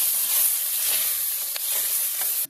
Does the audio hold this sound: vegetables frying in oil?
yes